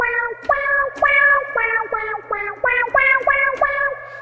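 The same synthesizer note struck repeatedly in a steady rhythm, each hit starting with a brief pitch bend that varies slightly with how hard it is struck.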